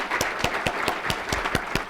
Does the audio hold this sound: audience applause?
yes